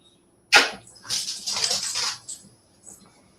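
A dog close by moves about, making a sudden rustling burst, then a stretch of snuffling and shaking noises that fades into a few faint trailing sounds.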